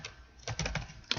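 Several quick keystrokes on a computer keyboard as answers are typed in, a short burst of clicks close by with no talking.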